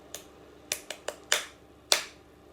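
Six sharp hand claps ring out alone in an uneven rhythm, a quick triplet group followed by spaced beats, as a music-lesson class claps through the first bar.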